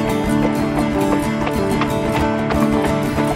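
Horses galloping at speed under spurring riders, a dense, continuous run of hoofbeats with steady rhythmic thuds, loud and close, layered over a busy background.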